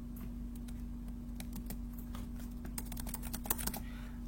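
Steady, fast typing on a computer keyboard while entering text for a simple HTML biography page, with quick light key clicks and a few louder taps near the end, close by and with no talking.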